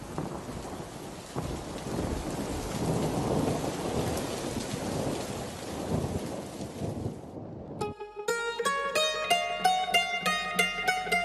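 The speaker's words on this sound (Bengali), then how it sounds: "চল, ছাতা নিয়ে বাড়ি চল, এই বৃষ্টি আর থামবার নয়।" Heavy rain pours steadily in a cartoon scene, with low thunder rumbling beneath, for about eight seconds before a sudden cut to plucked, rhythmic music.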